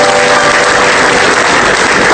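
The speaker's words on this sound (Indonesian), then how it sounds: "Tepuk tangan untuk Komeng Tato." A comedy show audience claps steadily in a dense, loud wash of applause that continues without a break.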